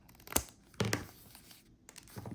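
Paper being cut and crinkled as a window shape is snipped out of a page, with a few short crisp rustling bursts separated by quiet gaps, close and fairly soft.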